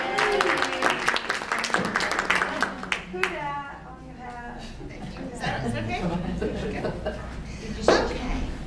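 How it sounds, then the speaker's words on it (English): A meeting audience claps and chatters in a room, bursts of applause mixed with chuckles and voices, fading out under continued talk. "Let's give James a round of applause."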